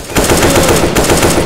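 Rapid automatic gunfire from the video game Left 4 Dead 2 rattles in a dense, loud burst of shots with only a brief gap, nothing else audible.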